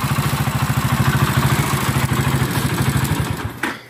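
Just-started tractor engine idling close by, a steady rapid chugging pulse with mechanical clatter that runs evenly for several seconds before dropping away abruptly at the end.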